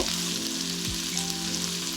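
Fried rice ingredients frying lightly in a pan, an even, dense sizzle held steady at close range over a low constant hum, with no voices.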